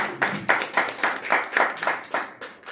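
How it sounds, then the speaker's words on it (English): Applause from a small audience at a UN side event on fashion, innovation and education, with distinct, fairly regular claps in a steady rhythm, moderately loud and close, with no talk over it. "Give her another round of applause."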